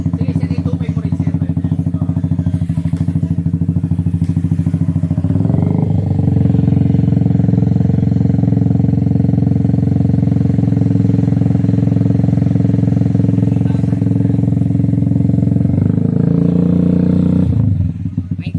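A motorcycle with a dual muffler exhaust set fully open revs loudly and close by, holding a steady, throaty drone. It climbs to a higher rev around five seconds in and drops away near the end.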